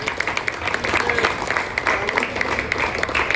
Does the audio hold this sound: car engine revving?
no